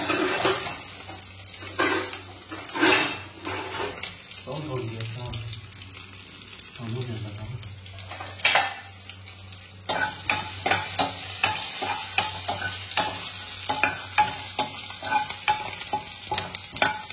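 Mustard seeds, cumin and urad dal fry in hot oil for tempering, a soft continuous sizzle broken by repeated sharp scrapes and taps of stirring, with running water heard in the background.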